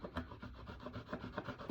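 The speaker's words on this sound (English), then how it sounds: "scrape that away, because sanding in that little crevice is a bit tricky" Quick rhythmic scraping of a chisel blade removing glue squeeze-out from a wooden coaster, a steady series of short rasping strokes close by, ending in one louder scrape.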